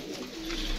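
A pigeon coos close by, one soft, low throaty call carrying steadily through the brief moment.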